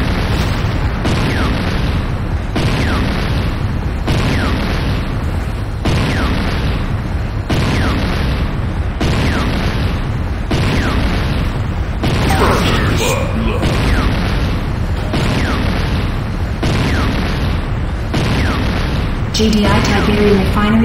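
Explosions and blasts ring out as the Nod Tiberium Refinery is destroyed in the game Renegade, a dense run of booming bursts and heavy rumbles over roughly twenty seconds, with bursts recurring every couple of seconds and a sharper blast near the end.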